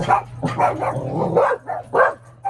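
Dogs barking close by in a run of sharp, repeated barks with short gaps, loud and alone without talk, over a low steady hum.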